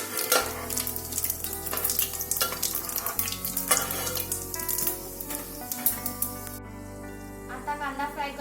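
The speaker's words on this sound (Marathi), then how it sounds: "तेल गरम झालेलं आहे। खडा गरम मसाला घालूया।" Whole garam masala spices crackle and sizzle in a bowlful of hot oil for an Aagri-style country chicken curry, a steady close frying hiss with sharper pops throughout, and a voice comes in briefly.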